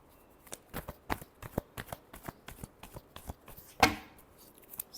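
Tarot cards shuffled by hand in a quick run of crisp riffling flicks and soft slaps, close and clear, ending in one sharper snap as the deck squares up.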